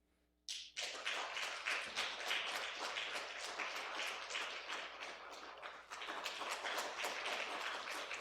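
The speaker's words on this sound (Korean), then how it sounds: "나오실 때 큰 박수로 환영해 주시기 바랍니다" A church congregation at a Wednesday prayer meeting breaks into loud, sudden applause welcoming a missionary speaker, dense rapid claps from many hands close by, sustained and fairly even with a brief dip partway through.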